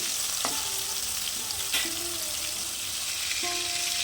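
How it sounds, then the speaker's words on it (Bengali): Bombay duck fish fries steadily in hot oil, a continuous near sizzle with brief scraping squeaks as the fillets are gently turned over, with no voices. "এক পিঠ হয়ে গেছে একটু আস্তে আস্তে উল্টে দিচ্ছি বেশি জোরে নাড়াচাড়া করা যাবে না কারণ ভেঙে যেতে পারে"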